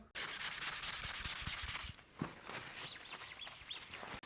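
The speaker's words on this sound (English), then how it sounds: "each time you use a grit, you're just trying to remove the big scratches from the previous grit" Sandpaper rubs across the wooden body of an Eart EGLP-620 Les Paul-style guitar in quick, even back-and-forth strokes, loud and close, then a softer, more scattered stretch of sanding follows.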